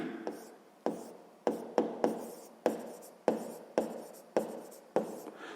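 A pen scratches out a sixth-grade maths equation on paper in a quiet room, about a dozen distinct strokes, each a sharp onset fading quickly, close and clear.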